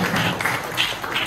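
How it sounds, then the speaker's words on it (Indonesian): A classroom of junior high students gives short, scattered applause for a classmate, a brief patter of many hands clapping at moderate distance. "Tepuk tangan untuk Dek Fatkan."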